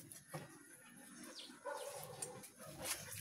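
Dogs bark at a house in a few short, scattered bursts, moderately distant and not very loud, over a faint background of outdoor noise.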